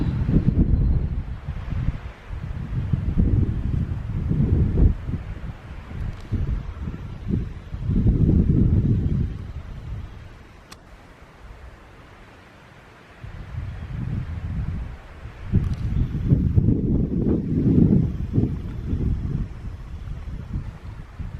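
Wind gusts across an open mountain trail on the Appalachian Trail, a low buffeting roar that swells in waves, fades nearly away midway, then surges back strong, with no talking.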